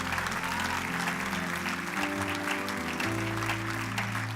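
A church congregation applauds in a steady, even wash of clapping that runs the whole clip, layered over sustained organ or keyboard tones.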